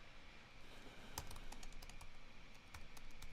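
Quiet clicking of keys as someone types on a computer keyboard, a steady patter of taps with a few sharper presses, close and alone.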